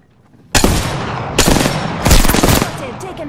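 Automatic weapon fire in Apex Legends, three loud rapid bursts erupting one after another close by, each trailing a sharp rattling tail.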